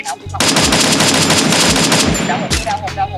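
Gunfire in a shooting video game: a sustained, loud burst of rapid automatic shots lasting about two seconds, followed by a few separate single shots.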